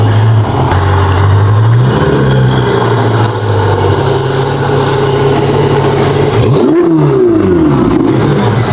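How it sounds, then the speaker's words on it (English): A Ferrari 488 engine idles with a deep, steady rumble, then blips sharply upward in pitch and settles back, loud and close. "it sounds like a Ferrari"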